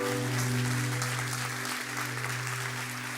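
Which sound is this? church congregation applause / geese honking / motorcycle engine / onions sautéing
church congregation applause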